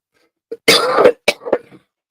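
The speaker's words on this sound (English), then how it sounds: "if I could get rid of this cough, that'd be fantastic" A single short cough from a man with a history of smoking, followed by a few rough throat-clearing bursts, close and loud, with silence around them.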